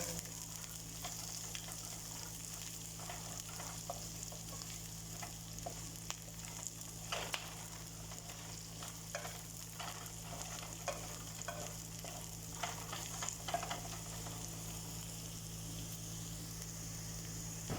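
Onion sizzles steadily as it fries and browns in a pan, a soft constant crackle broken by occasional scrapes and stirs, with no voices.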